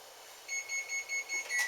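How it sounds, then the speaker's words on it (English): An oven timer beeps while a sweet potato pie bakes, six evenly spaced high electronic pulses sounding close and clear over a low room hum. "Waiting for the alarm to go off"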